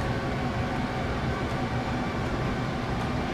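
A simulated train runs in the Train Fever game on a four-track line, a steady, even rumble of rolling wheels at moderate volume with no pauses.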